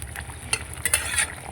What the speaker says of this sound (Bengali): এই দেখুন কত সুন্দর ফুটছে।